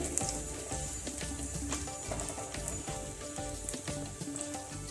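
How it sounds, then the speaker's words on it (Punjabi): Cumin, garlic and ginger roasting in a hot pan give a continuous crackling sizzle, dense and even throughout, with scattered sharp pops. "ਜੀਰਾ ਭੁੰਨ ਹੋ ਗਿਆ ਨਾਲ ਪਾ ਦਾਂਗੇ ਲਸਣ ਅਦਰਕ ਇੱਕ ਮਿੰਟ ਵਾਸਤੇ ਇਹਨਾਂ ਨੂੰ ਆਪਾਂ ਭੁੰਨ ਲੈਨੇ ਆ"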